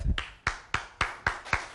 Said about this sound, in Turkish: Alkışlarla. Hoş geldiniz.